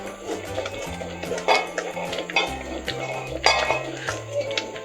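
Beetroot laddoo mixture stirred continuously in a pan, with repeated spoon scrapes and metallic clinks against the pan over a low background hum.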